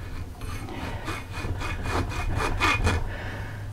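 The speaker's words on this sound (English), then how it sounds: "Then I can saw through it with the hacksaw." Hacksaw cutting thin-wall tubing with rapid back-and-forth rasping strokes, about a dozen rhythmic close strokes that build slightly in force, with no voices.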